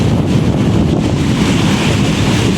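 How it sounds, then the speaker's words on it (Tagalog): Steady roar of sea surf washing ashore, mixed with heavy wind buffeting the microphone, loud and continuous with no voices. "Dagat po yan oh. Dagat. Ito po kami sa tabing dagat."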